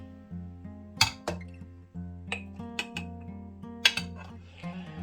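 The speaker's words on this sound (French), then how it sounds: "Je verse ici et je remplis avec ma purée de piment." Chili purée being poured into glass jars, with sharp glass clinks and taps ringing out several times over a background of sustained tonal music, no talking.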